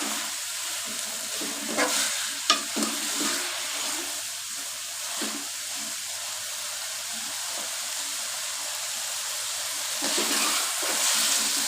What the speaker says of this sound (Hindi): 2 से 3 मिनट अच्छे से भुनाई करेंगे ताकि मेथी जो है वो अच्छे से पक जाए।